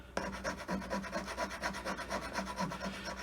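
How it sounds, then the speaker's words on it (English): A metal file rasping across a wooden handle for an old 4oz cross pein hammer, close and steady, with rapid repeated back-and-forth strokes and no talking. "So let's see if we can take that out with the file."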